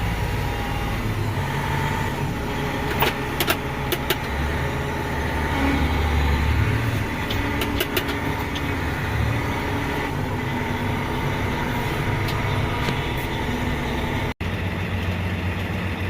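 A tractor engine idles steadily while warming up in a shop, a constant close low rumble holding for the full stretch with a few faint clicks and no talking.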